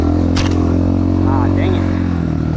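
An X-Pro 250 motorcycle runs steadily over rough, serious off-road terrain, its engine drone loud and continuous with some clatter, while someone talks over it.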